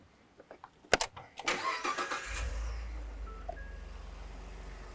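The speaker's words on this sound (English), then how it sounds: "When you start the vehicle up and it's in park or really in any gear and it's in 2-wheel drive" A pickup truck engine cranks and catches, with a few clicks and a whirring start, then settles into a steady low idle for the rest of the clip.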